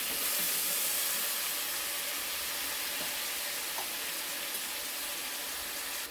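Pumpkin greens hiss and sizzle steadily in a hot frying pan, a constant bright crackling with no talking over it.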